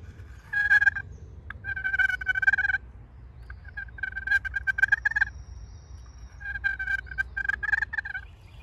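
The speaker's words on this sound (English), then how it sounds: "First call is a purr," Wooden turkey box call worked with slight paddle pressure, giving soft, rolling purrs in three short bursts separated by pauses, close and fairly quiet over low background rumble.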